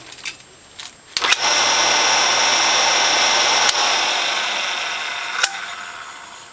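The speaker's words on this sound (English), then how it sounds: "I'm going to test the front motor bearing because I want to make sure whether it needs to be replaced or not" A Norwalk juicer's electric motor runs steadily for about two and a half seconds while its front bearing is tested, making a loud, even whine. Brief clicks and knocks come before and after it, and no one speaks.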